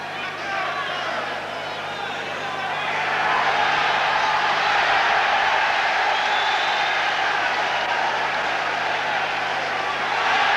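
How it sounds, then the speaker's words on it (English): Boxing crowd noise from David Pearce vs Lucien Rodriguez swells into a louder, steady roar of approval as a fighter rallies. The crowd sits in the background beneath continuous commentary from a speaker. "So the crowd obviously approving of Rodriguez's fight back."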